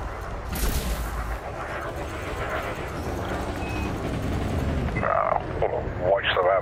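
Ship weapons firing during a conflict zone battle in Elite Dangerous, a steady rumble of repeated cannon thuds and blasts with sharper zapping bursts near the end, no voices.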